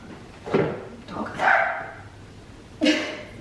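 A dog gives a few separate barks and yips indoors, three short, loud bursts spaced apart with quiet pauses between them.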